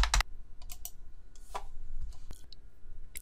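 Computer mouse clicks while printing from Photoshop Elements on a desktop computer: a handful of sharp, close clicks and taps at irregular intervals over a quiet background, with no talking.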